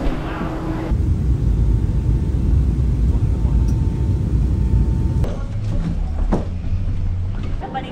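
Steady broad rumble fills an airplane cabin during boarding for a flight to San Francisco, with a constant ventilation-like roar and faint background voices and bumps throughout.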